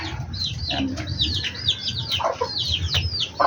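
Pet pigeons in their enclosure make a steady run of soft chirps and coos, with clucking fowl mixed in. The sound is close and continuous, with no talking.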